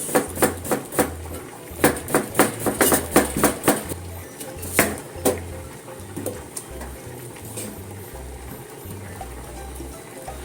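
A knife thinly slices a vegetable on a cutting board in a kitchen, giving a quick run of crisp taps. The taps come in bursts and then thin out into scattered cuts, with faint kitchen background noise.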